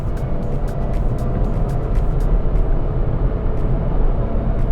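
A Nissan Magnite compact SUV cruising in third gear at around 100 km/h, its engine and road noise forming a steady, loud, continuous drone with no talk.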